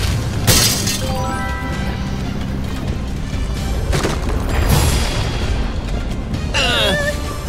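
Several sharp crashes of shattering airplane windows burst out, each followed by tinkling debris, amid loud rumbling noise.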